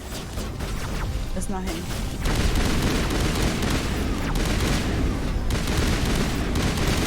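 Heavy rapid gunfire and booming blasts from a Mass Effect firefight fill the space loudly and continuously, while someone speaks briefly over the shooting.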